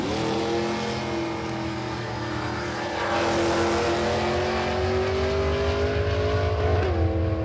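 A blown and injected Ford drag car idles and revs at a dragway, its engine a steady rumbling drone with a rising harmonic whine from the blower, swelling louder midway and holding near.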